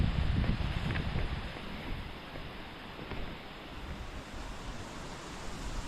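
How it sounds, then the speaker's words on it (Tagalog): Strong wind blows outdoors through a garden, a dense rushing roar buffeting the microphone, heaviest at the start and then easing to a steady gusty wash, with no talking. "Lakas mo ng hangin na yun."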